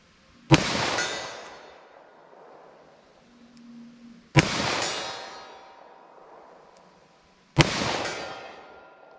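A snub nose revolver firing .38 Special +P rounds outdoors, three loud, sharp gunshots spaced several seconds apart, each followed by a long, fading echo.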